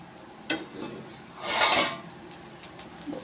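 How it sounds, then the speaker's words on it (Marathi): A metal lid is set onto a pan simmering over low gas while cooking a rice chila, giving a sharp clink followed by a swelling scrape and rattle of metal against metal, close by with no talk. "आणि याच्यावरती झाकण लावून आपण कमी गॅसवरतीच आपल्याला ठेवायचं"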